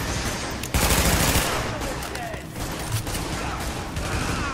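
Rapid bursts of automatic gunfire from a firefight in The Division, a co-op shooter game, loud and dense throughout with brief pauses and mechanical clatter, under occasional faint voices.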